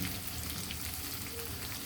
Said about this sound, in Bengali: এদিকে আমার মশলাটাও ভাজা ভাজা হয়ে আসবে।